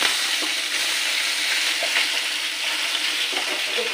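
Fish sizzling and frying in a hot pan of oil during home cooking of chela fish, a steady, loud crackling hiss that runs the whole time with small pops and no talking.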